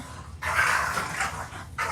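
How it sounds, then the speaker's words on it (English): Dogs bark in a quick burst of overlapping yaps at moderate distance, followed by a short pause and another bark at the end. "you guys hear my dogs?"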